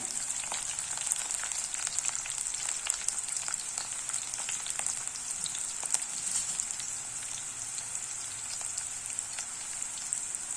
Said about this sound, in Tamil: வெங்காயம் லேசாக ப்ரௌன் ஆனால் போதும் இந்த ஸ்டேஜில் பச்சை மிளகாவையும் சேர்த்துடலாம்